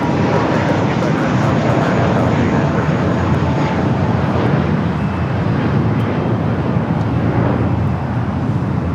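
A jet airliner taking off from runway 25 right at Los Angeles International Airport gives a loud, steady roar that fills the whole stretch, with radio-style talk under it.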